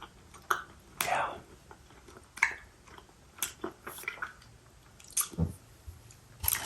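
Werther's Original caramel apple filled hard candy is chewed close to the mic, making soft sticky squishes and clicks at an irregular pace, with quiet whispered talk between bites.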